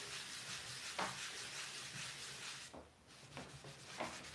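A cloth buffs grey wax onto a faux wood nightstand, producing soft, close rubbing strokes, faint and repeated in an uneven rhythm, with no voices.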